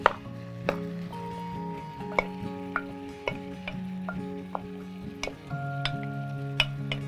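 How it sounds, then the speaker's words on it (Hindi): Chicken sizzles as it goes into hot butter in a pan for kali mirch chicken karahi, a steady frying hiss with sharp clicks and scrapes of a utensil against the pan, close and with no talk. "जब ये हमारा गर्म हो जाएगा बटर, तो हमने इसमें ये चिकन इसमें ऐड कर देना है।"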